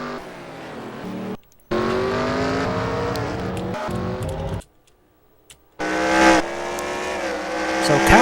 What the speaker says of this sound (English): Oh, we got more cars spinning.